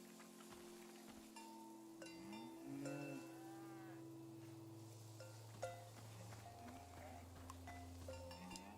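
A cow in the video game Season: A Letter to the Future lets out long, low, drawn-out moos over a faint outdoor background, with a couple of softer calls and light clinking nearby.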